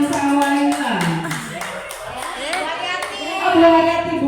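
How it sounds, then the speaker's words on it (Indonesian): A group of teachers claps along in rhythmic, sharp claps at close range for two colleagues, mixed with lively chatter and voices throughout. "kita beri tepuk tangan untuk Bu Siti dan Bu Sawailah."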